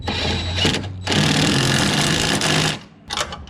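A power tool whirs loudly at close range, tightening a bolt on a Tacoma truck bed stiffener, running in two short bursts and then one long sustained run before cutting off.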